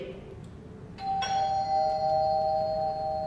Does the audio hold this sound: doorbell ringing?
yes